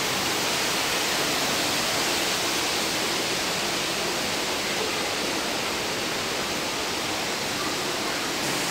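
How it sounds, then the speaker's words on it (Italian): Waterfall roaring steadily as a dense, unbroken rush of water, close and constant throughout with no voices. "Da qui inizia la cascata."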